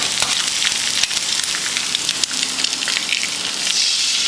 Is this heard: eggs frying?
yes